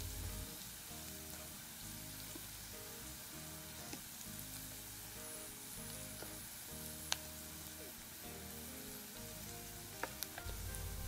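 Tempering ingredients sizzle in hot oil for a fried chicken curry, a steady close crackle and hiss throughout, with a few faint stirring clicks and no talking.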